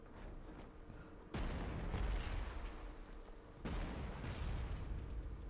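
Heavy artillery booms in a Spanish Civil War scenario of the Panzer Corps 2 strategy game. Several sharp, loud blasts are heard, each followed by a rumbling decay over a low background. No one speaks.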